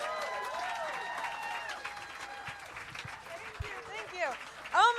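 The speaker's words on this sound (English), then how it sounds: "Clap it up for your host." Audience clapping and cheering at a comedy show fills the room steadily while a voice talks over it.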